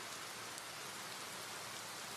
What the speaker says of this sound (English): Gosh, that sounds just like rain.